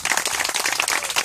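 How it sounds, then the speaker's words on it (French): Worshippers in a French-speaking church loudly acclaim the Lord with dense, fast clapping and crowd noise, a continuous, energetic burst of many hands close by. "Acclame puissamment le Seigneur"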